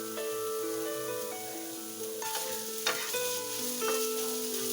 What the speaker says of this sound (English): and then I just stir it in the pan